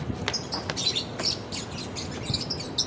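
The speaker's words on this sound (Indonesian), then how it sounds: "Tapi aku dengar suara burung." Scattered high, sharp chirps from small birds repeat irregularly over a soft background hum.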